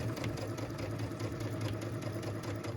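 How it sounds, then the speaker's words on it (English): A sewing machine stitches a fabric seam on a pieced, quilted stocking, with a rapid, even mechanical whir and fast rhythmic needle clatter, close and steady throughout, with no voices. "Then I'll carry on stitching, watching my stitch line and be very careful to stitch right on it."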